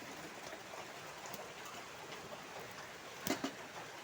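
Steady rain falls outdoors in the rainy season beside a cooking fire, a soft continuous hiss with a couple of sharper drip or tap sounds near the end.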